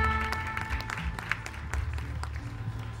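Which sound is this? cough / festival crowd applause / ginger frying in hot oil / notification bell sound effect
festival crowd applause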